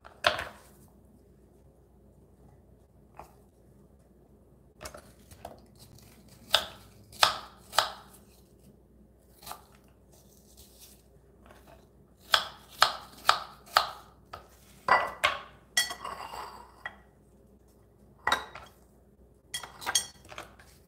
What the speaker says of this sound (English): But with the apples, I'm dicing them.